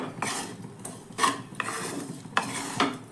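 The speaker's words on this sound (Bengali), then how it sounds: "এবার সব কিছু দিয়ে খুব ভালো করে আবারও মিশিয়ে নেব।" Spoon stirring Kashmiri red chili powder and chili flakes into a stuffing in a pan, with a few distinct scraping strokes against the metal and a soft background sizzle, no talking.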